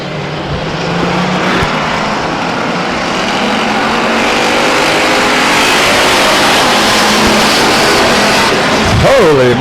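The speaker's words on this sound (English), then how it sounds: "Holy moly, the 49 car rockets out front. A little sideways off of turn 2, gathers it back together." Race cars at Stockton 99 Speedway roar in a dense, sustained wash of engine noise that builds steadily, with one car's revs rising distinctly near the end, loud and continuous.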